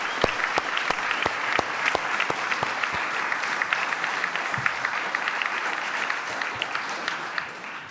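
An audience at a boxing press conference applauds for boxer Josh Taylor, a sustained round of clapping with distinct sharp claps close by over a dense crowd wash, fading slightly toward the end.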